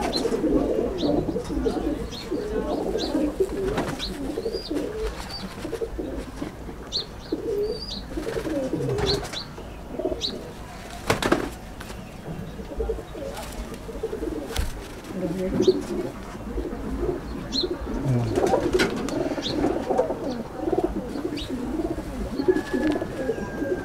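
Pigeons at a loft in Ankurhati, Howrah, coo steadily and overlap one another against a constant background hum, with scattered sharper chirps and a few knocks.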